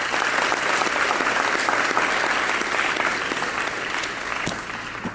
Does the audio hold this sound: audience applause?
yes